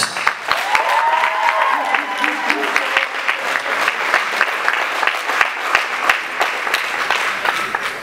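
Audience applause for a performer at a Christian concert, steady dense clapping from a crowd filling the whole stretch, with a brief sung or called note rising above it early on.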